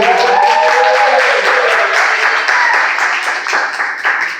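A church congregation at a Sunday service applauds for Fabi, a dense patter of clapping that begins over a voice and fades gradually.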